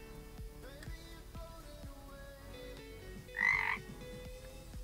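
One short, throaty croak, a person imitating a frog, rises briefly over steady background music and is louder than its surroundings.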